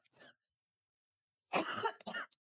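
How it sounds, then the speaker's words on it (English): A person coughs after breathing in sprayed perfume through the mouth, a short faint cough followed by a stronger, harsher double cough, close and alone. "I was breathing through my mouth and it made me cough"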